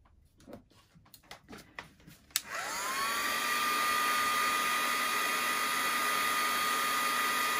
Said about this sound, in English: I'll give those a quick dry with my heat tool